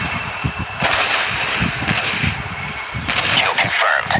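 Heavy gunfire in the video game Modern Combat 3: Fallen Nation, loud bursts of shots and booming blasts rolling over one another almost without a break, with a voice calling out in the middle.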